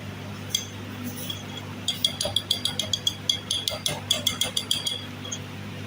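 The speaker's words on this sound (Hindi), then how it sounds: "अच्छी तरह मिक्स करेंगे आराम आराम से।" Biscuit dough being mixed in a bowl in a warm home kitchen gives a run of quick, light clinks and taps of a utensil against the bowl, close by and steady, with faint voices in the background.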